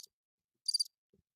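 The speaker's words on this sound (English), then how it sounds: "It's crickets, right?" A single brief cricket chirp sounds once, short and clear against otherwise near silence.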